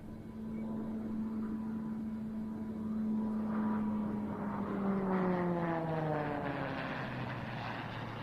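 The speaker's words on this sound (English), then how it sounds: "The Texan T1 is the British designation for the Beechcraft T6 Texan II, which is itself the American license-built version of the Pilatus PC-9" A Beechcraft T-6 Texan II (Texan T1) military trainer passes overhead at an airshow arrival, its steady propeller drone holding loud and close, then falling in pitch as it flies past and away.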